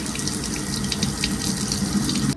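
Tap water runs steadily and loudly into a sink while a batch of lettuce is rinsed for tacos in an apartment kitchen, a continuous splashing rush that cuts off abruptly at the end.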